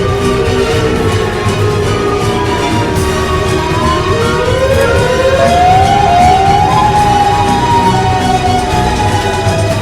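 The Siren Head monster in a Minecraft game lets out a loud, continuous wailing siren whose pitch slides and rises. It holds steady and dominates the whole stretch with no talking.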